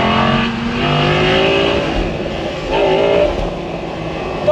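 Audi R8 V10 Performance engine revving in dynamic mode, a loud, close, sustained roar that rises and falls as the revs climb and drop, heard from inside the car.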